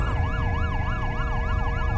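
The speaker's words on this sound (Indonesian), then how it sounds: "ditambah bunyi sirene dari ambulanku" An ambulance siren used as a sound effect in a horror radio drama wails steadily up and down in a smooth repeating cycle, loud and continuous over a low road-noise rumble, with no talk.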